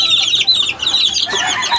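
Chickens cluck and chatter close by in a brooding flock with new chicks, a busy run of overlapping clucks and calls with a brief dip partway through.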